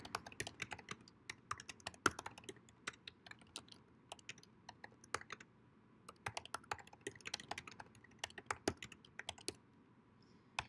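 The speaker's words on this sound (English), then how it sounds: "I just typed a couple sentences here." Typing on a computer keyboard: quiet, close key clicks come in irregular bursts and short pauses against a faint room hum, with no talking.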